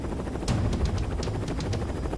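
Helicopter rotors thudding at the Palace of Justice, a steady rapid chop with a constant engine drone, fairly loud and heard alone.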